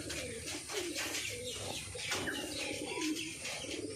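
A few pigeons, one of them white, coo in repeated low throaty rolls close by, with faint chirps mixed in against a quiet background.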